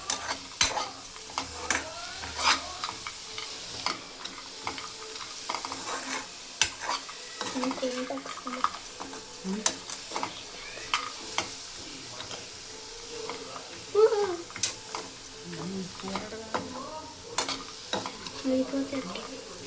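Spicy chili-powder-coated chickpeas are stirred in a pan over a low flame, a spatula scraping and tapping in irregular strokes over a soft, steady frying sizzle, with occasional brief murmurs of talk.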